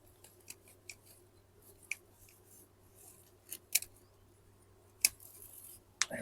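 Scissors snip lemon thyme stems during a herb harvest: a few crisp, sharp cuts spaced a second or more apart, quiet and close, over a faint low hum.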